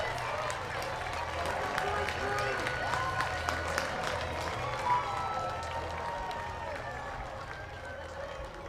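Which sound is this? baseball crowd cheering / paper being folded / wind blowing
baseball crowd cheering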